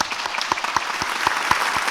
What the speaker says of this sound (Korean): 뜨겁게 박수로 격려해 주시기 바랍니다